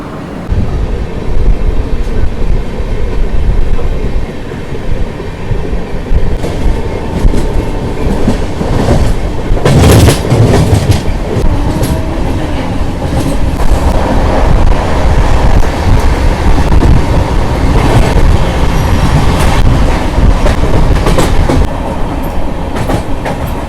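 The Vivek Express runs on the tracks after leaving Thrissur in Kerala, producing a loud, continuous rumble with rhythmic clickety-clack from the wheels and occasional brighter rattles, with no talk.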